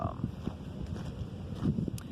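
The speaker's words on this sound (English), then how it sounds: "It's a very windy day today, so I hope it doesn't interfere with this video" Strong beach wind buffets the microphone in steady, uneven gusts, producing a close low rumble that runs throughout the clip.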